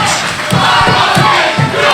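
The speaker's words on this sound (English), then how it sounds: "Just listen to this capacity crowd" A capacity crowd at a wrestling event roars and cheers loudly and close, with rhythmic shouted chants pulsing through the sustained din.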